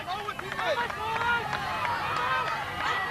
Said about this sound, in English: The crowd going absolutely crazy for Magnus, especially Auster, who can be heard above all the rest